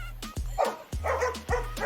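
Dogs bark and yip in a park with a fenced dog run, a few sharp barks at intervals over steady low background hum, fairly close.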